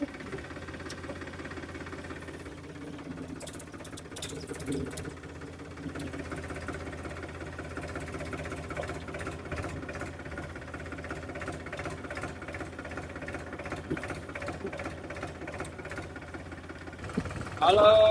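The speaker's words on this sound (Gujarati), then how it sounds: "તો આપણે ટ્રેક્ટર સ્ટાર્ટ કરી લઈએ" A tractor engine runs with a steady low, knocking rumble near a cotton field, then grows louder and harsher near the end.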